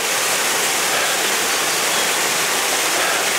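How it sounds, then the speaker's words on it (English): A steady, roaring rush of falling water, loud and continuous like a close waterfall, with no voices, at Yellow Bamboo Falls in Japan. "Just show us the damn waterfall, right?"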